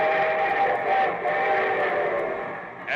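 A train sound effect for a radio show, a sustained steam whistle blowing steadily over rolling rail noise for a few seconds, loud and close with no voices.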